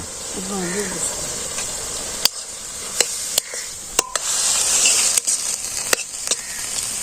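Onions go into a hot pan for a hilsa fish head and Malabar spinach curry, raising a steady hissing sizzle with a few sharp clicks of utensils, while a voice is heard briefly near the start.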